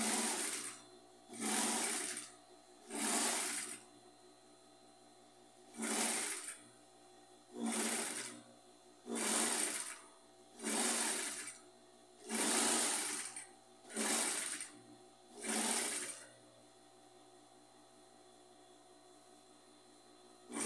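A sewing machine stitches around the edge of a round rug made from knit fabric scraps, running in about ten short, even bursts separated by brief pauses, close and steady with no voices.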